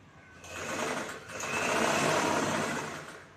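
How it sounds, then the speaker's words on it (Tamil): A sewing machine stitches along the folded edge of blouse fabric in two close bursts, a rapid whirring buzz that pauses briefly, then runs longer before easing off. "ரெண்டு பீஸையும் தனித்தனியாகவே நாம் மடக்கி ஓரமாக தைச்சிக்கிறோம்."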